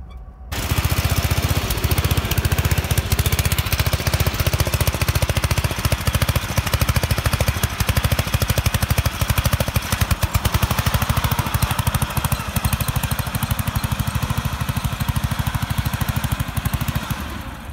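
A riding lawn mower engine fires up outdoors and runs loud and steady with a rapid, rough chugging beat that carries on without a break.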